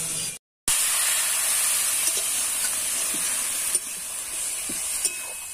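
Ground spices, chilli powder and ginger and cumin pastes sizzle and fry in a pan on a clay stove. The hiss is continuous and fairly close, with a brief dropout near the start and occasional soft stirring taps.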